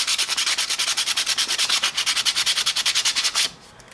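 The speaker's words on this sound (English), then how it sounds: "I'll just give it a couple swirls with the sandpaper and we're good to go." Sandpaper rubs model railroad track in fast, rhythmic back-and-forth strokes, close and steady for about three seconds before stopping abruptly.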